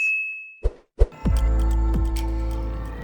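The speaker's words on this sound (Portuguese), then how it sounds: "Aproveitar aí para ativar o sininho das notificações para não perder nenhum conteúdo como esse" A notification bell sound effect: a bright ding with a sustained tone, then a few quick taps and a louder clanging chime that rings out and fades, all alone without talk.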